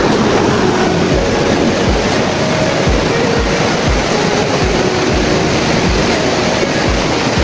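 Rushing river water beneath a hanging bridge in Valencia, Negros Oriental, a loud, steady, broad roar that fills the whole stretch without letting up, with no talk over it.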